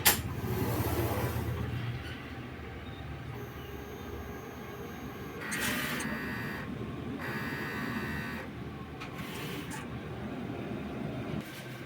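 A sublimation printer runs a nozzle test, its print head carriage whirring back and forth in a steady mechanical drone with brief higher bursts, fairly quiet and without talk.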